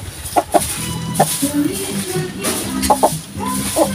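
A black Jersey Giant hen clucks in short bursts nearby, with a few sharper calls and some background farmyard noise.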